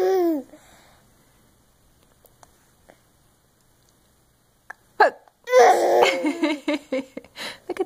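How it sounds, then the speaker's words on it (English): Baby hiccuping and babbling, with a few faint short hiccup sounds between bursts of baby vocalizing near the start and end. "Do you have the hiccups?"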